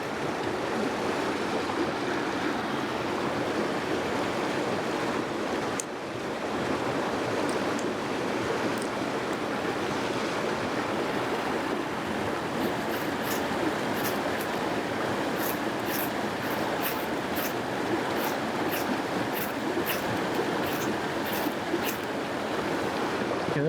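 Creek water flows steadily outdoors in a continuous broadband rush, with light wind and faint high ticking toward the end.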